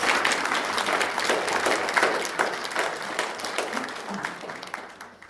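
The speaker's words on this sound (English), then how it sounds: "I think it deserves a round of applause." Wedding guests at Meldrum House Hotel applaud warmly after the vows, with many hands clapping in a lively wash that gradually tapers off toward the end.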